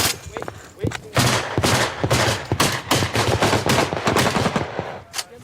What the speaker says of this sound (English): Oh, that's the machine gun. That's the machine gun.